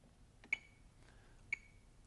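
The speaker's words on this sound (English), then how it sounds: "We'll set our metronomes to 60" Metronome set to 60 bpm giving two sharp, bright ticks exactly one second apart, faint against a quiet room with no talking.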